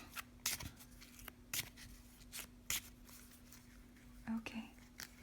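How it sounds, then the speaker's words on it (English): Oracle cards are shuffled close to the mic in soft, quiet riffling bursts, several crisp flicks spaced irregularly over a faint background hum, with a brief whisper near the end. "let's shuffle it again"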